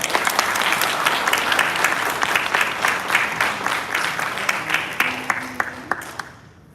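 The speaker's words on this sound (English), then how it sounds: "Please give a round of applause again." Audience applause at a morning session of a national convention and leadership conference, a dense wash of many hands clapping that holds steady and loud, then thins to a few scattered claps and fades out near the end.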